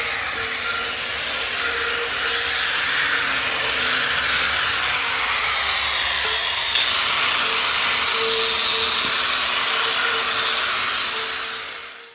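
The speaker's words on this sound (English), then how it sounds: "He's just wire wheeling that tank to get the rust, the surface rust off of it" A wire wheel grinds surface rust off a truck's air ride tank, a steady, loud, continuous abrasive whir with a slight change in pitch midway, running the whole time with no talking.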